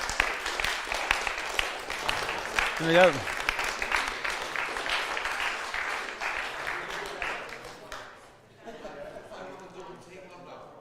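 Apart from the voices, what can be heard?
audience applause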